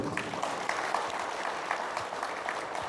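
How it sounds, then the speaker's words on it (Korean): Audience applause at a trade association's annual general meeting ceremony, a steady wash of many hands clapping indoors for the full three seconds, moderately loud, with no talk over it. "이철호 도지사님께 다시 한번 큰 박수를 부탁드리겠습니다"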